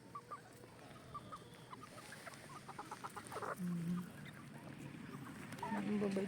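Cockerels on a farm cluck and call nearby as they crowd in begging for feed, with short clucks and a few louder honking calls over soft background noise.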